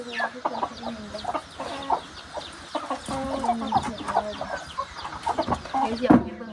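Chickens cluck and chatter continuously in a backyard with ducks nearby, close and moderately loud, with a louder squawk near the end.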